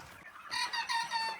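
Native country chickens kept in a farmer's poultry shed of about 300 birds cluck, and a rooster crows loudly and close, rising over soft background clucking.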